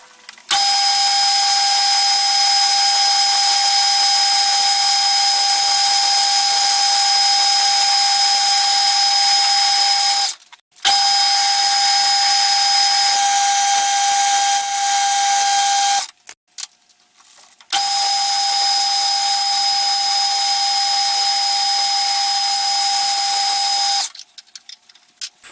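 A high-pitched whine of drilling and reaming a steam chest part for a Stuart Turner No. 8 mill engine runs steadily in three long passes, each stopping abruptly with brief pauses between, loud and close with no talking.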